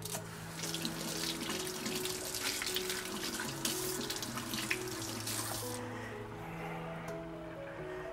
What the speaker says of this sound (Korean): 양파는 좀 씻도록 하겠습니다